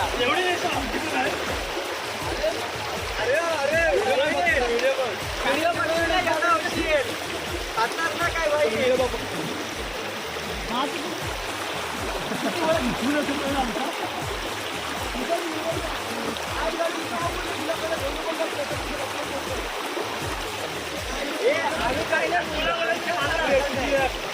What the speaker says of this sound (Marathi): नदी बघा नदी वाहता पाणी आहे एकदम